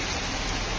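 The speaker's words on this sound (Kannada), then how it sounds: "ಫುಲ್ ಮಳೆ ಬಂತು" Heavy rain pours down in a steady, dense hiss that holds at the same level throughout the short stretch, with no voices.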